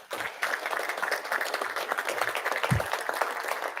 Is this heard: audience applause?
yes